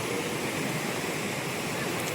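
Water pours steadily down a hillside stream near Gotameshwar, a dense, unbroken rushing roar heard close and alone without talk.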